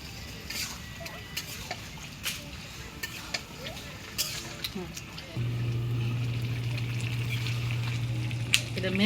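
Meat frying in a pan of cooked-down spice masala, a steady sizzle with scattered stirring clicks and a low hum joining halfway through, while a person talks over it.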